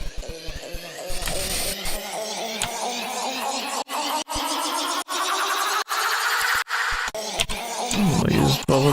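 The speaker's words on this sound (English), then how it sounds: "let's use the signature riser deluxe, which sounds like this, by the way" A 'signature riser deluxe' sound effect from a sample pack: a bright, noisy swell that climbs steadily in pitch and intensity over about nine seconds, cut by several brief rhythmic gaps before ending loud.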